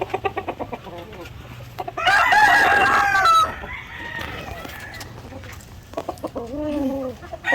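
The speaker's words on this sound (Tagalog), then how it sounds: "At ito yung rooster na gagamitin natin." White Leghorn hens and a rooster for breeding Dekalb Brown, clucking and crowing nearby in a farm pen, with a loud crow in the middle and repeated short clucks around it.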